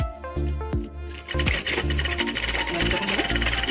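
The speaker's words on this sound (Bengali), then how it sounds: "এবার এই মাঝখান দিয়ে একটা সেলাই দেবো কাটারের উপর দিয়ে।" A sewing machine stitches a child's half pants in short stop-start bursts, then settles into a fast, continuous rattling run, close and loud.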